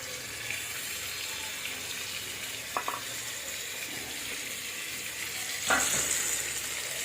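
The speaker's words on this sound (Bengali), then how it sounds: "দিয়ে আলুটাকে নাড়াচাড়া করে নেবো" Potatoes with pepper, chili powder, green chilies and peas fry in a pan while being stirred, giving a steady, broad sizzle with a couple of brief scraping clinks from the utensil.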